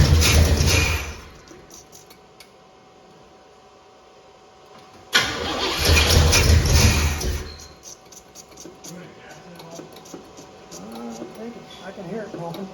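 A 1977 Pontiac Grand Prix engine cranking as someone tries to start it, with two loud bursts of starter grinding separated by a quiet pause, followed by faint rumbling and occasional voices nearby.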